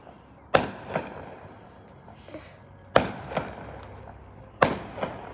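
Fireworks going off outdoors: three sharp, loud bursts about two seconds apart, each trailing off in a short crackle and echo, with quiet gaps between them.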